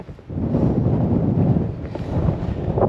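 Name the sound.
strong wind blowing on an exposed hilltop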